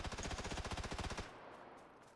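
Rapid automatic gunfire from an enemy in PUBG, a fast burst of evenly spaced shots lasting about a second, then an abrupt stop leaving faint ambient noise.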